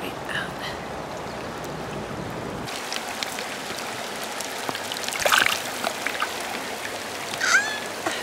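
Rain falls steadily beside a Colorado stream, a soft wide hiss of drops and running water heard at moderate distance, with a few brief louder splashes and chirps over it.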